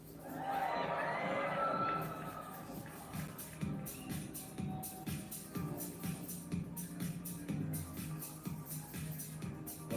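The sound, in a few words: audience cheering at Miss World award ceremony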